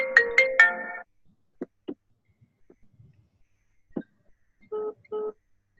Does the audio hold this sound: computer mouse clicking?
no